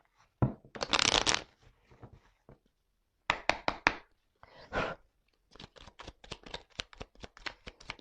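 Oracle cards shuffled by hand in bursts of quick riffling and tapping, with pauses between, then a long run of rapid crisp flicks, close and fairly quiet.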